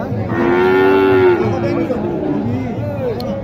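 Crossbred cattle at a Naogaon village cattle market give a long, loud, close moo, followed by softer lowing under steady background chatter from the crowd.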